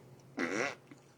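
A single short burp, loud and close, with a throaty voiced rumble lasting under half a second and quiet before and after.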